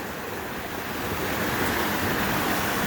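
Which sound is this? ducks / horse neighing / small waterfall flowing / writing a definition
small waterfall flowing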